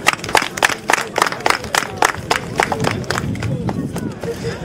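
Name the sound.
audience applauding the tournament's patroness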